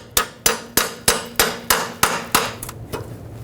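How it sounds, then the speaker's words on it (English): Hammer blows drive a 13mm socket onto a rounded-off, rusted exhaust nut while a rear catalytic converter is removed from a 2013-2020 Nissan Pathfinder. About ten sharp metallic strikes land in a steady rhythm, close and loud, with the last few softer. "This one for me is a little bit rounded off, so I'm going to put a 13mm socket on and hammer it."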